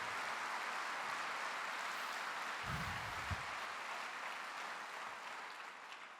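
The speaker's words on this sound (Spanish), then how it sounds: "Dele ese aplauso al Señor con fuerza." A church congregation applauds in a steady, sustained wash of clapping that stays fairly faint and even throughout, with no voices standing out.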